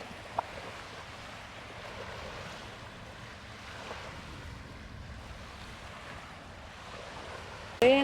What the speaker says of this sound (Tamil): தண்ணி பாருங்க, அப்படியே சும்மா பீச் மாதிரி அலை மாதிரி வருது.